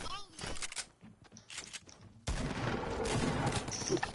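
Gunfire in a multiplayer squad video game, rapid bursts of shots and a sustained volley of automatic fire that grows dense and loud midway, with voices talking over it.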